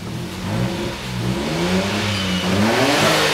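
Close, loud car engine holding raised revs with a PTO engaged, its pitch wavering and climbing in smooth surges with a mechanical whir underneath and no talking.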